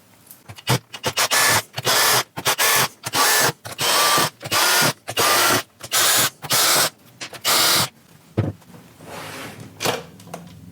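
A power driver removes screws from the case of a Basengreen 12V 300Ah lithium battery in a rapid series of about nine loud, evenly spaced whirring bursts, then a couple of scattered handling clicks.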